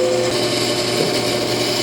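An Ammco 4000 brake lathe machines a brake rotor at slow speed, giving a steady close grinding, ratcheting mechanical drone with a faint tonal whine and no voices.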